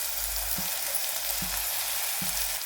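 Soya chunk fried rice with meal maker fried in a frying pan, a loud continuous sizzle close up, with three spaced scraping stirs of a spatula lifting the rice from the bottom, no voices.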